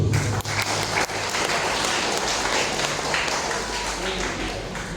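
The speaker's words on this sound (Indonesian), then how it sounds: "Tepuk tangan untuk Ngaju." A church congregation applauds during a year-end worship service, a dense continuous wash of clapping over a low hum, with voices mixed in.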